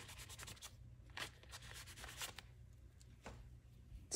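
Rubbing marks off an abstract mixed media artwork, a soft, close scrubbing with uneven strokes repeating over a few seconds, quiet and alone.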